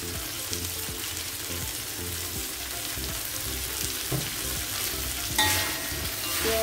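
Bean sprouts and spring onions hiss and crackle in a hot pan while being stirred, a steady loud sizzle with scraping and clinking of the spatula, and a brighter burst of sizzling near the end.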